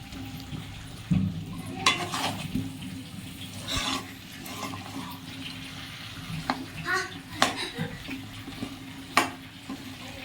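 Mutton and papaya chunks being stir-fried in a pan, with intermittent metallic scrapes and clinks of stirring and a soft frying hiss, while someone talks over it.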